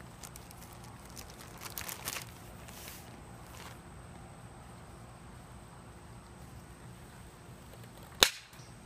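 A slingshot is fired outdoors, heard as a single sharp, loud snap near the end after a long stretch of quiet background with faint rustling.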